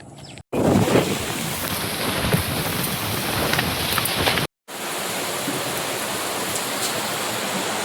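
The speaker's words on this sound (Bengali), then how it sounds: "এমন বৃষ্টি শুরু হলো।" Heavy rain pours down steadily at Sundarban, a dense roaring wash that breaks off briefly twice and then resumes just as strong.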